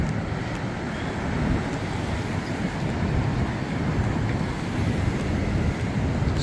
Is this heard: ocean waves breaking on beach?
yes